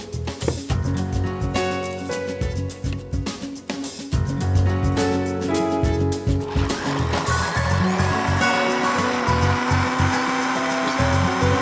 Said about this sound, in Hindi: अब इसे हम मिक्सी में चलाएंगे